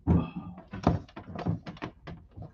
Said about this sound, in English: Oh, wait, I got a trap door here.